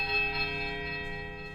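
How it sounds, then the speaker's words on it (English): A single bell in the video game Pillars of Eternity strikes a high, piercing note with a rich sustained ring of layered overtones that slowly fades, heard alone and up close. "The bell tolls a high, piercing note of startling power"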